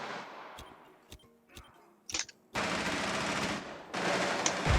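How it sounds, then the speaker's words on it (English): Video game gunfire, first a few sharp isolated shots, then loud sustained automatic bursts in two long stretches near the end. "Oh, he's shooting at me."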